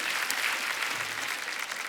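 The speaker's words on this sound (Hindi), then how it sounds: "एक बार जोरदार तालियां हमारे मेहमानों के लिए।" A studio audience on The Kapil Sharma Show gives steady, dense applause for the guests, a brief continuous wash of clapping with no talking.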